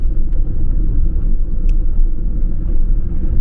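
Steady low road rumble of a car rolling through town streets, continuous and fairly loud inside the cabin, with faint brief clicks above it and no talking.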